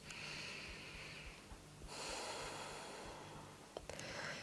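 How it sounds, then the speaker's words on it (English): Slow breathing in and out through the nose in a beginners' yoga class, heard as soft, close, airy inhales and exhales of similar length. "start breathing in and out through your nose and trying to make the inhales and exhales a similar length"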